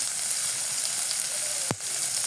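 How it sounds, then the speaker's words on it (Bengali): Spice paste of turmeric, onion, cumin and garlic frying in oil for chickpea curry, a steady close hiss throughout with one brief knock of a spoon against the pan. "এখন ভালোভাবে কষিয়ে নেব মশলাটা।"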